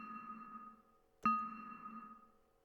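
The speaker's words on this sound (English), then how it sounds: "do you hear how the gate is chattering?" A noise gate chatters on a fading reverb tail, the sustained tone cutting out and then jumping back with a sharp click partway through before decaying again, quiet and alone.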